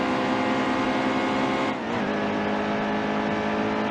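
A damaged NASCAR stock car in NASCAR Heat 2 on the Charlotte Roval drones at full throttle, a loud, steady engine tone with a brief dip partway through before the roar resumes.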